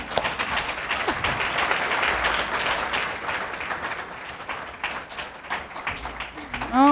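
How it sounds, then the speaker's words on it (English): An audience at an art fair in Basel applauds the winner of an art prize, a dense, sustained round of clapping that slowly thins toward the end, with a voice starting to speak at the close. "I think this begs a round of applause."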